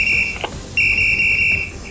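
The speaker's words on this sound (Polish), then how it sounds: "odezwały się czujniki bez ruchu" A firefighter's PASS motionless-sensor alarm sounding during a fire and rescue drill, a steady high electronic tone that cuts out briefly and then resumes, heard over low background rumble.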